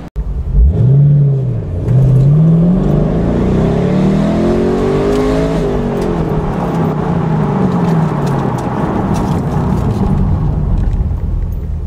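A Chevy Camaro SS convertible engine revs up hard through a dual exhaust system with a deep, throaty note, pitch rising and falling through several pulls, then settling into a steady loud rumble.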